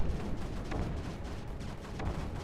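Gunfire from units in the strategy game Creeper World 4: a rapid, steady crackle of overlapping shots and thuds filling the whole stretch, loud and busy with no talking over it.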